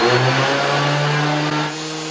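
Charnwood PT200 8" x 5" bench top planer thicknesser running: a steady, loud motor whine with a constant hum, holding even throughout and easing slightly near the end, with no talking.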